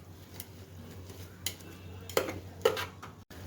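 Masale bhaat ingredients, including peas, chilli, tomato, potato and onion, are stirred and sautéed in a pan. A utensil clinks and scrapes a few scattered times over a low, steady background hum, with no voices.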